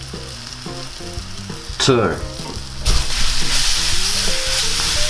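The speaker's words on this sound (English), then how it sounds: "we'll just mix this until that garlic gets nice and aromatic" Garlic with oregano and thyme leaves sizzles in a hot frying pan as it is stirred, a steady close crackle with scraping from the mixing, and a brief louder burst partway through; a voice speaks a couple of words.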